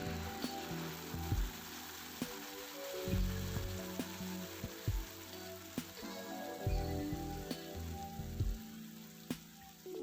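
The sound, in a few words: tomato paste sizzling as it is added to fried garlic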